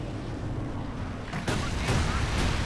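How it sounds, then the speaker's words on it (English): Incendiary rocket barrage from a walking Stuka in the World War II strategy game Company of Heroes 2, a dense rumbling roar of rocket fire and blasts that swells midway and stays loud and continuous, with no voices. "Oh, with the incendiary barrage this time. Yeah, napalm rockets, incendiary rockets."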